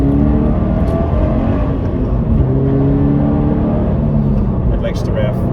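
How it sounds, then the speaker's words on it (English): A Toyota GT86 engine revs as the car accelerates onto a bypass, a loud, steady droning hum heard from inside the cabin, with someone talking over it. "It likes to rev. It is a revvy little engine."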